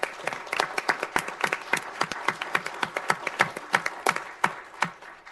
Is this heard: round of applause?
yes